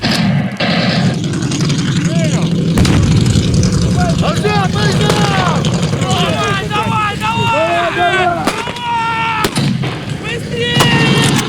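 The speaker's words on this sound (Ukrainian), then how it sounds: "Поряд постріли, поряд зриви артилерійські." Gunshots and artillery blasts crack out during military combat training, sharp bursts over wind noise while shouting and voices carry through the scene.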